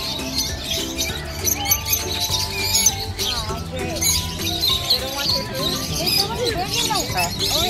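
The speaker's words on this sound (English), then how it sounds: "So these are parakeets, lovebirds, cockatiels." Parakeets, lovebirds and cockatiels in an aviary at Sea Life Park chirp busily and continuously, a dense overlapping mix of quick tweets and squeaks close by, with a faint background murmur.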